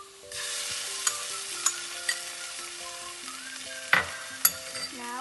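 Onion with ginger garlic paste fries and is stirred in a pan, a steady sizzle running throughout with several sharp spoon scrapes and clinks standing out above it.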